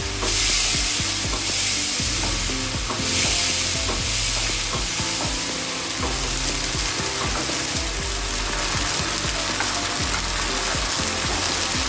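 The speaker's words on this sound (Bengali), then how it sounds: "এবার আমি খুব ভালো করে মশলাটা কষিয়ে নেব" Red chilli and turmeric masala fries hard in a pan for chicken pulao, a dense continuous sizzle with rhythmic scraping strokes of a spatula throughout, close and loud with no voice.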